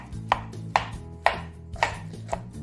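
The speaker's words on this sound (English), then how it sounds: "we're just gonna mash with my meat masher" A meat masher thumps cauliflower down in a pot, five sharp, evenly spaced strikes standing out close and clear over a low steady hum, with no voices.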